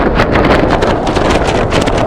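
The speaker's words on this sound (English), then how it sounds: "I don't know what the wind speed is" Strong outdoor wind buffets the microphone at a wild camp in the Lake District, a loud, continuous roar with gusty rumble and no pauses.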